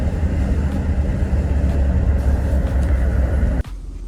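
A car accelerates hard in second gear after a makeshift transmission repair, its engine a loud, close, sustained rumble from inside the cabin that cuts off abruptly near the end.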